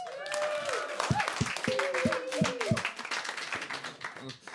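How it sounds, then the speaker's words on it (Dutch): A comedy club audience breaks into warm applause for a stand-up comedian, dense sustained clapping with cheers and whoops rising through the crowd, and a voice talking over it near the start. "Hartelijk applaus voor Pascal Smulders"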